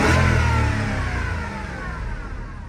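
A 4.4 liter V8 in a high-mileage Volvo revving, a loud, close engine roar that peaks at the start and then slowly winds down in pitch and volume, with no talking.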